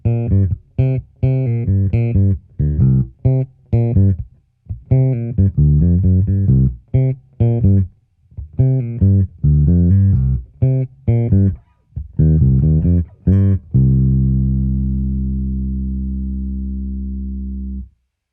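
Bass guitar plucked near the bridge with the treble rolled fully back, played through an EBS Reidmar 752 bass head: a run of close, loud, dark notes in a steady fingerstyle rhythm, ending on a long sustained note that slowly fades.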